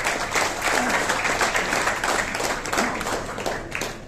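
An audience at a car and motorbike racing award ceremony applauds in a dense, steady burst of clapping that fades slightly toward the end.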